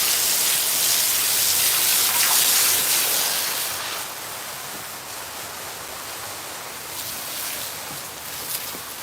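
Water sprays steadily from a garden hose onto plants outdoors, a loud, continuous broadband hiss and patter that eases slightly partway through and carries no talk.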